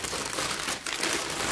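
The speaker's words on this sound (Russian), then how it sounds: "Будет немножко шуршание, вы прекрасно понимаете, что бумага шуршит." Paper rustles and crinkles while a parcel of embroidery kits and a bead organizer is unpacked, a continuous close, bright crackling with small bursts and no talking.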